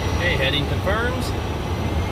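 Phenom 300 jet engines at takeoff power give a steady, loud roar with a faint whine, while a voice talks over it.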